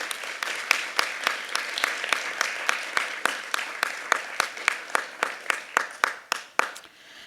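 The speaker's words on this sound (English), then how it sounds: "It's very loud clapping" Clapping at a university learning and teaching awards ceremony honouring citation winners: a loud, even run of about two dozen sharp claps in a steady rhythm that fades out at the end.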